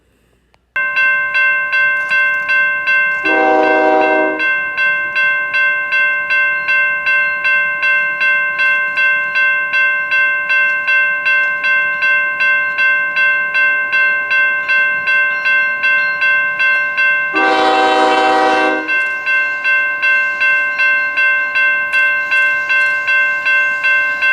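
Union Pacific UPZ-LBDV freight train, Long Beach to Denver, rolling past a railroad crossing: the crossing bell rings steadily throughout with sustained tones, while two long locomotive horn blasts sound several seconds apart over the continuous rumble.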